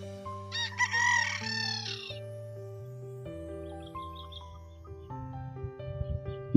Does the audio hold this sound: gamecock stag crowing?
yes